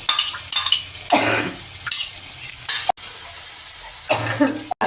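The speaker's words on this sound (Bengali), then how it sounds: "এবার আমি দইটা দিয়ে দিলাম দিয়ে কষে নেব" Yogurt being stir-fried into a prawn masala in a pan, bursts of loud sizzling and spluttering alternating with scraping of a spatula against the metal pan, close and uneven, with no talking.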